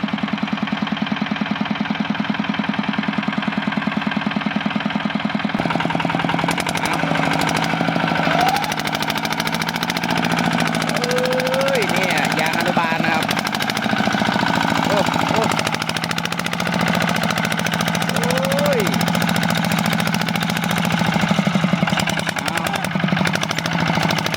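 A farm tractor's steady, low engine rumble idles throughout in a field, with people talking over it and occasional scraping and clanking of hoes digging soil nearby.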